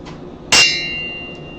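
A homemade Christmas bell, heated and reshaped, is struck once with a sharp metallic clang, then rings on with a long, sustained tone that slowly fades.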